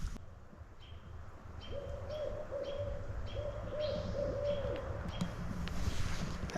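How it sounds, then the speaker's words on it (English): Owls hoot outdoors near a campsite in a short run of repeated, soft, mid-pitched calls, moderately distant over a faint background hiss, with no talking. "The owls are out."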